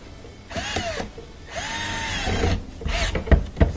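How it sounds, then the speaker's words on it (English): A cordless driver tightens a screw on a dishwasher air gap in two short whirring bursts with rising and falling pitch, followed by a couple of clicks and knocks, close and clear. "Tighten up that screw."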